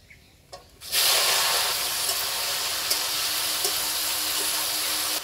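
Steamed jujube plums drop into hot spiced mustard oil in a wok, setting off a sudden loud hiss that holds steady and close after a brief quiet start.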